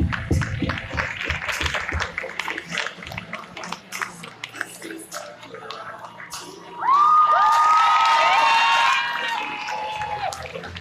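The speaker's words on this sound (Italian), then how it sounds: "Un grande applauso!" A crowd claps and cheers loudly, with excited shouts and a whistle rising over the applause, after a stretch of noisy chatter and movement.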